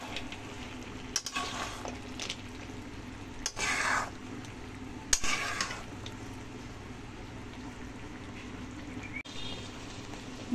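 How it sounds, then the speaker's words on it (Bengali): Pumpkin stem curry with mustard paste being stirred in a pan, giving a low continuous scraping and gentle sizzle with a few brief louder clatters of the utensil against the pan. "সর্ষেটা দিয়ে এখন আমি সমস্ত সবজির সাথে নাড়াচাড়া করে নেব"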